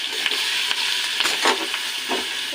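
Dried red chillies and ground spice paste fry together as a tempering in hot oil, giving a loud, continuous sizzle with stirring scrapes and occasional louder crackling bursts, close up and without voices.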